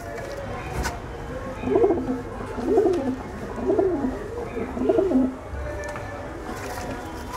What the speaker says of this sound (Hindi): देखें ये मादी कबूतर